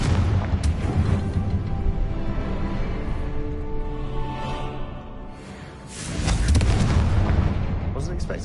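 A Confringo spell explosion in the video game Hogwarts Legacy, a loud fiery blast with a rumbling roar that fades briefly, then bursts again with renewed force, mixed with game effects and a voice.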